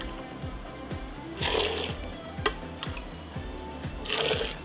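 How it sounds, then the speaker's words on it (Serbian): Boiling water pours in two gushing bursts into glass jars, filled to the top, with a steady low rhythmic ticking underneath and a quieter trickle between pours. "sipam je u tegle i punim do vrha"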